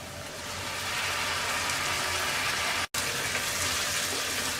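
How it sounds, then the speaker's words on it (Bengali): Water pours steadily into a pan for eggplant curry, a loud continuous gushing stream with one brief cut, no voices over it. "এবার আমরা দিয়ে দিচ্ছি পানি।"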